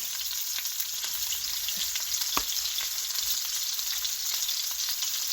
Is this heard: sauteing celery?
yes